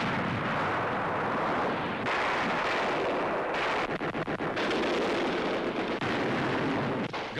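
Bombs from a Junkers 88 exploding on a road, heard as continuous roaring, rumbling blasts and crackling booms on a worn, noisy recording, loud and unbroken throughout with some sharper bursts.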